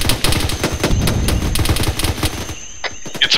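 Heavy continuous gunfire in the ARMA 3 military shooter during a firefight around a town, overlapping rifle and machine-gun bursts rattling steadily with no pause, loud and close.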